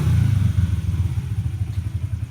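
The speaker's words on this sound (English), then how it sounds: "is how you start a dirt bike" A dirt bike engine runs close by in a low, rough, loud idle with uneven chugging pulses that soften slightly over a couple of seconds.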